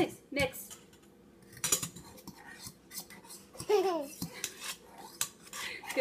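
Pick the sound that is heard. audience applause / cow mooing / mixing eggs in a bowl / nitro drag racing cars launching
mixing eggs in a bowl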